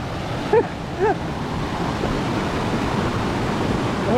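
A steady roar of rushing water from Madhabkunda waterfall in Bangladesh fills the air, loud and continuous, with a couple of short bird chirps near the start.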